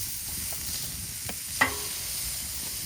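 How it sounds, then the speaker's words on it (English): Steaks sizzling on a greased camp grill outdoors, a soft, steady frying hiss with a couple of brief clicks and a sharper pop near the middle. "now we're gonna throw the steaks on."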